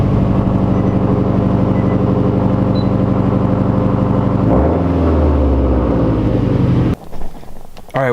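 A car on a test drive hums at a steady, loud cruise with a droning engine tone, shifts pitch midway, then cuts to quieter road and cabin noise.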